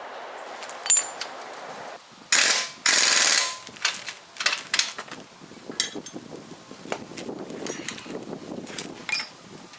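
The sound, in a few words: impact wrench tightening shock bolts on Jeep Wrangler TJ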